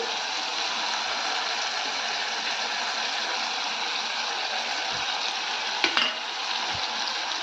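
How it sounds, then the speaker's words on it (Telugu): Chili powder frying in oil with okra and tomatoes, a steady loud sizzle that holds throughout, with a couple of faint taps from stirring near the end. "కారం వేసి కొంచెం ఏగనిద్దాము కారం పచ్చివాసన పోయేంత వరకు కొంచెం ఆయిల్లో ఏగనిద్దాము"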